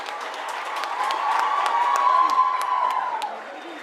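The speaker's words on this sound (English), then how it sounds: "Kindly give them a big round of applause." An audience at a Master and Miss pageant event in Belgaum applauds the six participants coming on stage. Crowd clapping and cheering swell and then fade over a few seconds.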